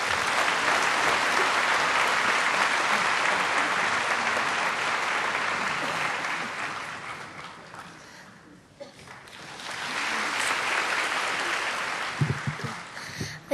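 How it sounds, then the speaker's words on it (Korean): Thunderous applause fills a church hall as a homeschooled child is welcomed to the front, a broad roar of clapping that dips briefly midway before swelling again and tapering near the end. "나오실 때 우레와 같은 박수로 이 어린이를 환영해 주시기 바랍니다"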